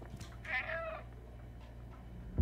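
A cat in the video game Stray gives a single short meow, followed by quiet game ambience and a low thump at the end.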